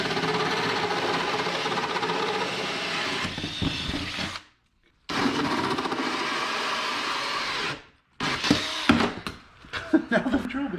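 A power drill with a 2 1/8 inch hole saw whines and grinds loudly in long bursts, stopping briefly twice before rough, uneven cutting resumes, during a jon boat build.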